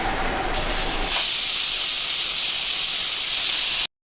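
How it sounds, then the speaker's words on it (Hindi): An Indian pressure cooker holding chicken curry lets out a loud, sustained steam whistle, a sharp hissing blast that starts abruptly, rises in force and holds steady for several seconds before cutting off. "ये देखिए सीटी अभी मारेगा"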